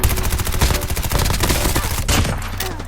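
Rapid gunfire from a shooter video game rattles in a dense, loud burst of repeated shots, followed by a sharper blast near the end, with no voices over it.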